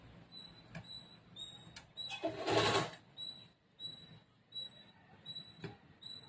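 A sewing machine runs in short stitching bursts on blouse fabric at a back boat neck, with quiet gaps, a louder rattling run in the middle and faint clicks.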